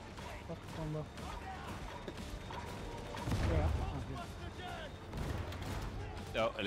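Chaotic gunfire and explosions fill a Warhammer 40K Darktide firefight, dense bursts and crashes layered over a constant rumble, with a player's voice talking over the battle.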